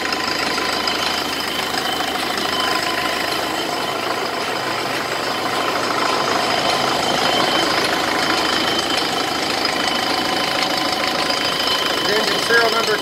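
Cumberland 4BT ISB diesel engine with Allison 1000 transmission on a frame-cut training stand, running warm with a steady mid-pitched drone and faint knocking texture, constant and fairly close throughout.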